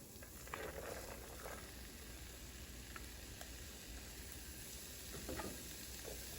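Lentils go into a hot pan of spiced vegetables and aromatics over medium-high heat, giving a soft, steady sizzle with faint scattered crackles and stirring scrapes throughout.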